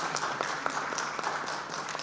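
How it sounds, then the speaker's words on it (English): An audience at a desalination and water innovation conference session applauds the panelists with a steady burst of many hands clapping. "Maybe another round of applause for our panelists."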